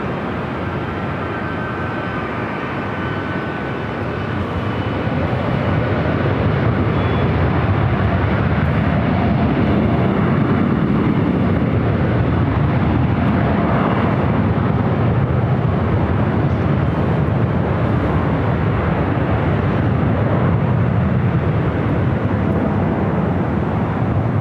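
A Cathay Pacific Boeing 777 from Hong Kong arrives on runway 24 right at LAX: a steady, loud, broadband jet roar that swells after the first few seconds and holds for the rest, with no talk.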